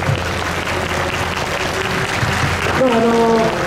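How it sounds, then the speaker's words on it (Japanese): Loud audience applause fills a motorsport driver talk show at Fuji Speedway, steady crowd clapping throughout with a voice rising over it near the end. "もう一度ちょっと大きな拍手を。"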